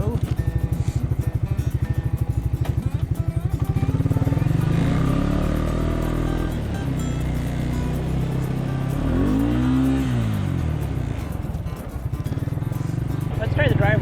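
A Suzuki King Quad ATV engine drones and revs while driving through snow in low range, loud and close, its pitch rising and falling as it works, with people talking over it.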